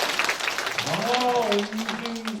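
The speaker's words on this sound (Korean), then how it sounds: "박수 한번 주세요" A room of party members at a Democratic Party education session in Incheon claps steadily, with a voice talking over the applause in the middle.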